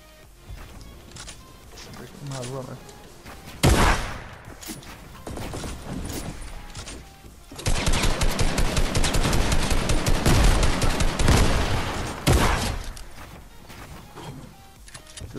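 Bursts of gunfire from a Fortnite match, with dense rapid shots for several seconds and scattered single reports around them, loud and close, mixed with players talking over it.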